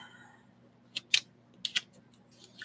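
Scissors snip through a paper cutout of an alien lady figure, a few crisp close cuts in quick irregular bursts against a quiet room.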